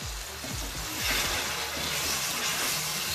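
Garlic and green chili paste frying in a pan for an aloo palak dish, a steady broadband hiss of sizzling oil that continues throughout, with soft low knocks underneath and no talk.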